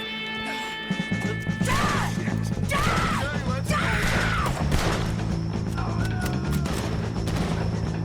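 Rapid gunfire in Red Dead Redemption 2 during a fight with O'Driscoll gang members, dense repeated cracks and impacts close by, mixed with shouting voices and in-game music.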